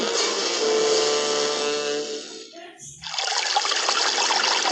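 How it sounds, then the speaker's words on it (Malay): Steady rushing flow of water, loud and broadband, briefly dipping before resuming at full strength; no voices present. "Bunyi air ini mungkin biasa bagi kita, tetapi luar biasa bagi mereka di Yaman."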